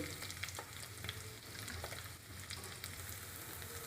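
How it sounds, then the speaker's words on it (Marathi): Onions sautéing in a kadhai, a faint, steady sizzle with soft intermittent scraping of a stirring spoon. "आता आपण ह्याच कढईत कांदा परतून घेऊ।"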